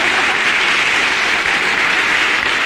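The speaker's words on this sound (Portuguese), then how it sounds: "Palmas para eles, gente." An audience at a choir gathering in Lagoa dos Três Cantos, Rio Grande do Sul, claps in dense, sustained applause that stays loud and even throughout, with no voices standing out.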